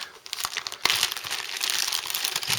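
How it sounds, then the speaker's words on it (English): A resealable Ziploc plastic bag holding a 1:72 scale Supermarine Swift FR.5 model kit crinkles and rustles steadily as it is handled up close, one sharper crackle near the start, with no talking. "the actual kit itself is in a resealable Ziploc bag"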